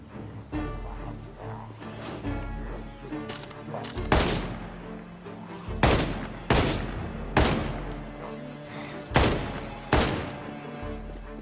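M16 rifle fire in Project Zomboid: several sharp, loud single shots crack out at irregular intervals over a steady low background hum of game ambience.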